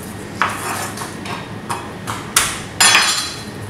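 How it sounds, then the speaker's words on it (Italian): Herbs and peppercorns being crushed together in a kitchen, giving a handful of sharp, separate pounding knocks at an irregular rhythm, close and fairly loud, with no talking. "Poi andiamo a tritare insieme le erbe e insieme al pepe in grani."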